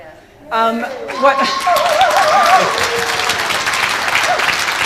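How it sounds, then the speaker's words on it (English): Audience applause rings out for the choir leader at a Christmas concert, a dense, steady wash of clapping from a full room that starts abruptly and carries on, with a voice singing or speaking over the start. "we do need to give a round of applause to our fearless leader"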